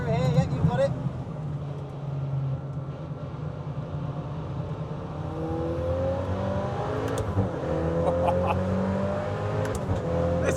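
A BMW M2 Clubsport (F87) engine pulls steadily on a track, the rising harmonic tone climbing through a gear under continuous cabin noise, with voices talking over it.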